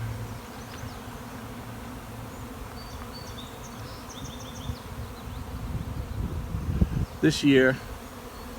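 A swarm of honeybees flies outdoors in a breeze, a steady buzzing hum that swells louder near the end as bees pass close, with a brief spoken voice near the end.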